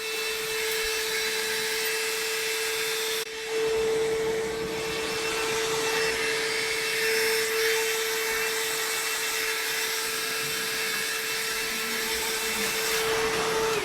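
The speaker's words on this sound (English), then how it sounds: "Let's use the heat gun real light. I have it on the high setting" A heat gun on its high setting blows over freshly painted Mazda NA Miata center console trim, a constant whirring roar with a steady whine, briefly dipping near the start before running on alone.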